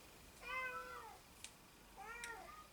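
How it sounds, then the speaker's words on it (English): A cat just awake from a nap gives two drawn-out meows about a second and a half apart, faint against a quiet indoor room, with a soft click between them. "And Kitty Cat is after waking up from his snooze. Here he comes."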